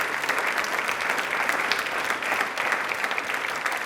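A studio audience at a Rajasthani quiz show clapping loudly and continuously, a dense, steady burst of applause with no talk.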